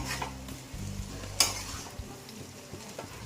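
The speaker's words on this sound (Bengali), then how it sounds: "দিয়ে দিলাম এবার ডিমগুলোকেও দিয়ে দিলাম দিয়ে এবার আস্তে আস্তে নাড়বো" Eggs being stirred in a frying pan while making pasta, a steady soft sizzle with scraping utensil strokes against the pan and one sharper clink near the middle, close by with no talking.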